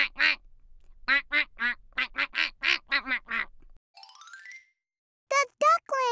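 Cartoon ducklings quack in a rapid series of bright, close calls, with a short burst of jingly chime partway through before a few more quacks at the end.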